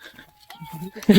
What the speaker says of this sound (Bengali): ওই দেখ পুরে বাবারে শিয়াল ডাকতেছে, দেখো কতগুলো।